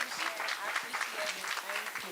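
An audience at an awards reception applauds an award recipient with a steady patter of clapping that runs the whole time, while a voice speaks over it.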